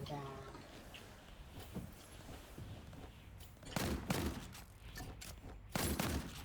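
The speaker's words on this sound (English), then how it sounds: "It will have sound effect when this guy shoots" Enemy gunfire in a video game sounds as a few sharp, close bursts of shots over a busy game background.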